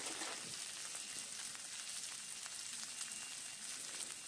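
Finely chopped onion fries in a pan, giving a faint, even hiss and soft crackle that stays steady from start to end, with no talking.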